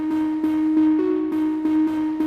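Contour-style synth sound from an epic music sample collection: a sustained buzzy tone with a steady low pitch and a faint higher line, pulsing in short rhythmic swells, loud and alone.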